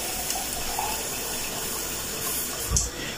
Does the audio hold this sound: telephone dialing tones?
no